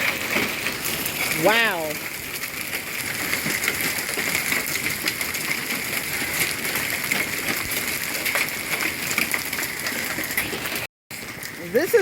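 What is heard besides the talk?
hailstorm, hail falling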